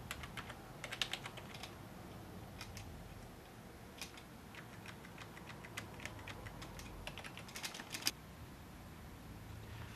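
Someone types on the keyboard of an Axel M80 thin client in quick, irregular bursts of faint, close keystroke clicks with short pauses between them, and no one speaks.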